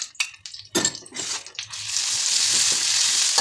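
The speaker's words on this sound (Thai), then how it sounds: "เสร็จแล้วเราก็ใส่พริกแกงลงไปผัดนะคะ ผัดพริกแกงกับกระเทียมของเราให้หอมเลยนะคะ" Red curry paste and garlic stir-fried in a pan, with several close clattering stirs and scrapes up front that give way to a loud, steady, hissing sizzle.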